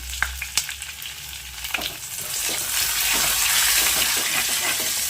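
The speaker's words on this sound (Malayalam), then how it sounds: "ഈ പച്ചമുളകും കൂടെ ഒന്ന് ഇതിലൊന്ന് വഴറ്റിയെടുക്കാം" Green chillies and curry leaves sauté in a pan: a few sharp spatula knocks and scrapes at first, then the frying swells into a loud, steady hiss.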